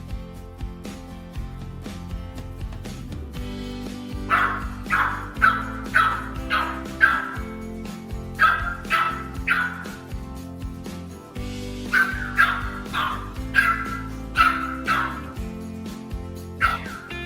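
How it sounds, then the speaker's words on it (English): A small dog and a Rottweiler barking indoors at home, a string of sharp yips and barks in bursts over a steady background, fairly loud and close, with no speech. "they're usually greeted by the thunder of paws and the tiniest little bark you've ever heard"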